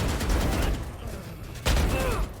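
Rapid gunfire bursts from a Valorant match, loud and close, with a sharp fresh volley near the end over game ambience.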